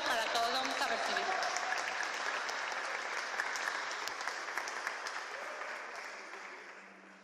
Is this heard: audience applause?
yes